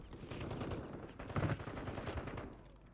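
Rapid gunfire in a video game, bursts of shots rolling together over about three seconds, fairly quiet in the mix.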